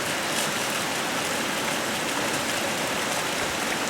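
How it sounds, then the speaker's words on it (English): Heavy rain pouring steadily outdoors onto surfaces around potted fig trees on a humid day, a dense, loud, continuous hiss with no pauses and no voices. "This is more rain than yesterday."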